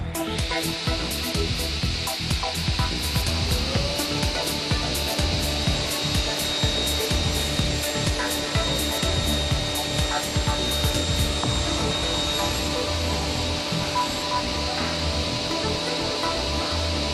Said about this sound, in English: The glue we used on the seat has now hardened and can be cut to size.